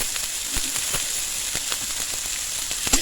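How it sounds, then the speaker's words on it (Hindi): Finely chopped capsicum sizzles in a pan for a veg momo filling, a soft steady hiss broken by faint crackles and pops, with no voices. "अब मैं बारीक कटी हुई शिमला मिर्च डाल लेती हूँ"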